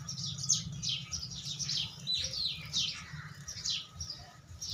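Sparrows bathing in water chirp in quick, overlapping bursts close by, with a soft low background rumble beneath the calls.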